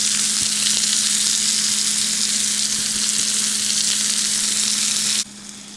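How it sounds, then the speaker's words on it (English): Steak sears in a pan with a loud, steady sizzle that crackles continuously close by, then drops off sharply just before the end. No one speaks. "So I'm not really trying to get too much of a sear right now."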